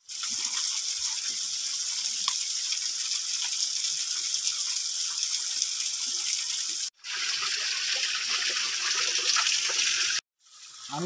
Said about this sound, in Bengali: এখানে আসার পর ঝর্ণার শব্দ শোনা যাচ্ছে